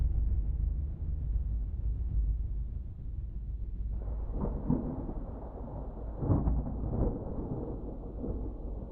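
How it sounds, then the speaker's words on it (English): Thunder rolls in the dark video game Welcome To The Dark Place, a low sustained rumble over an ominous droning soundtrack that swells partway through. "the sound of thunder means that a new soul has dropped into the dark place"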